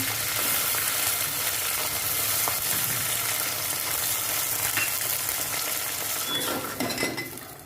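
Garlic, ginger-garlic paste and onion-coconut masala frying in a pan for katachi amti, a steady loud sizzle with scraping stirs and utensil clinks, busier toward the end.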